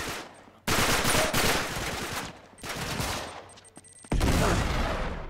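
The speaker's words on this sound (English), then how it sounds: "Are you shooting at me? You're shooting at me." Gunfire in the Uncharted 3 video game comes in several loud, dense automatic bursts separated by short lulls, close and harsh with no talk over it.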